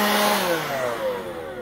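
Cordless battery-powered yard tool switched on by its button, whining up to speed with a smooth rising motor tone that settles into a steady electric hum, close and alone.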